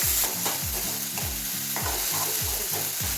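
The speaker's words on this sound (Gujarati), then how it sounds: "વટાણાને પેલા નાખીશું ફટાફટ ચડી જશે સોફ્ટ થઈ જશે" Green peas sizzle in a frying pan with ginger and chilli while a spoon stirs them, giving repeated rhythmic scraping strokes over a soft steady crackle, close and moderately quiet.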